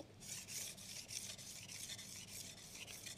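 A knife blade is stroked across the fine 1000-grit side of a whetstone in steady back-and-forth passes, a soft, even rasping hiss with a regular rhythm, close and quiet, with no talking.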